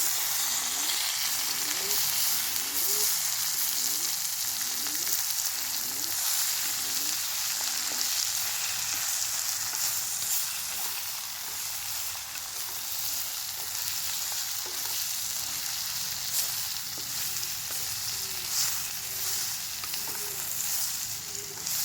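Bitter gourd and onion fry in a pan, giving a steady sizzle throughout while a spoon scrapes and stirs in a regular rhythm of repeated strokes. Nobody speaks.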